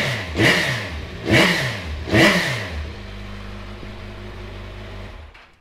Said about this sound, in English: We'll give it a start for you so you can hear it.